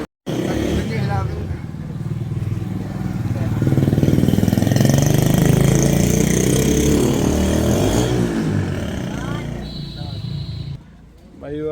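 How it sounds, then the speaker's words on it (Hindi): A scooter engine starts up and runs as the ride begins, rising to a steady buzzing drone that swells in the middle and fades near the end, with someone talking over it. "ये बाहर निकाल ली स्कूटी।"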